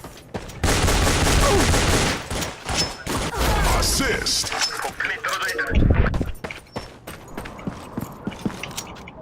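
Counter-Strike 2 match on the Dust2 map, with grenade and flashbang throws among bursts of rapid gunfire and thuds, loud and close. Someone talks over the action throughout.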